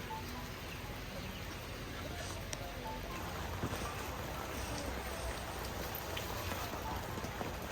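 Steady sudden rain pours down on goats outdoors, a dense, continuous patter on surfaces with occasional louder drops.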